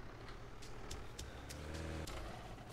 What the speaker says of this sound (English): There's another car coming in.